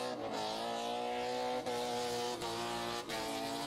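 Drift cars at a 2015 Vidin drift race, a chase car following the lead car around the track, with engines screaming loudly and continuously and tire squeal mixed in, with no talking.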